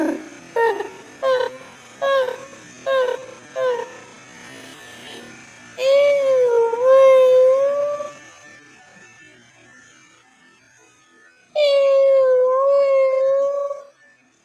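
A dog lets out a run of six short, sharp yelps, then two long wavering howls separated by a few seconds of quiet, close and fairly loud.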